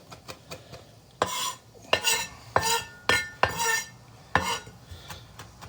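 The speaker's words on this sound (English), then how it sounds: "I'm just rocking my knife back and forth and using my knife to scrape them back into a pile" A knife rocks back and forth through rosemary on a cutting board, giving about seven sharp, close chopping knocks in an uneven rhythm with quiet gaps between.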